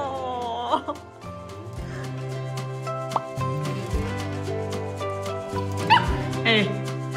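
A small dog yips and whimpers in short high bursts and drawn-out whines, close by, while people talk over it and music plays underneath.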